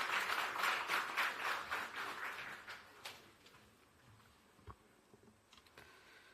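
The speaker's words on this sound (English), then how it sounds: "Let's welcome him with a clap" An audience at a Nairobi launch event for Amazon Web Services applauds to welcome a speaker, with dense clapping for about three seconds, then fading to scattered claps and room noise.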